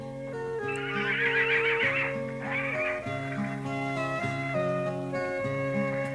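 A horse gives a whinny early on, a wavering high call over steady background music, moderately loud and heard alone without speech.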